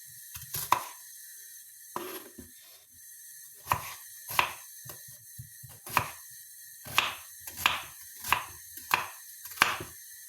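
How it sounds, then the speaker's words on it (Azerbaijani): A knife finely chopping onion on a board makes a series of sharp, close chops, first scattered and then settling into a fairly regular rhythm, with no talk over them. "ilk öncə başlayırıq soğanımızı xırda-xırda doğramağa"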